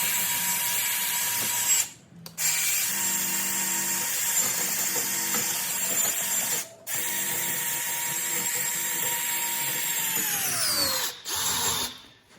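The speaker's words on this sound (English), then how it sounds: "Get a grind wheel or a wire wheel." A power tool with a grinding or wire wheel cleans rust off Honda Pilot front brake hardware, a loud steady whine broken by two brief stops and a winding down near the end.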